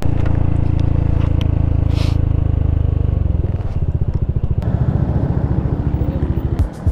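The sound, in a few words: Yamaha NMAX V2 scooter with RS8 exhaust pipe riding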